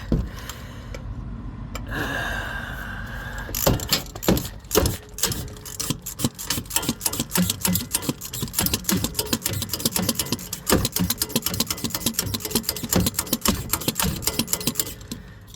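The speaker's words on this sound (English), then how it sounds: "Still gotta use the wrench. Ratchet." A ratchet wrench clicks rapidly and steadily at close range while working on shock absorber hardware on a Hemi vehicle. After a few seconds of quieter handling, the dense, even ticking runs continuously with no talking.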